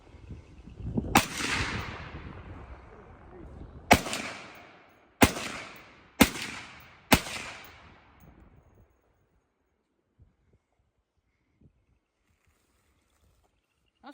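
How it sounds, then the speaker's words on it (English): Five sharp rifle shots from a 350 Legend AR at an outdoor range, spaced a few seconds apart, each loud and close with a ringing tail, followed by near silence with a few faint clicks. "Fixing to go hot and shoot our first ones down the range."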